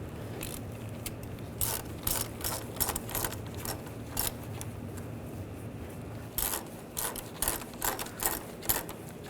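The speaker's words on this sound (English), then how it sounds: "I'm just going to put a new hose clamp on here. Get that lined up, and I'll just tighten this down." A ratchet tightening a new hose clamp on the AC condenser hose of a 2004-2012 Chevrolet Colorado 3.7L, close and faint, with bursts of quick clicking separated by short pauses.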